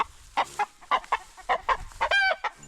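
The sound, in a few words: chicken clucking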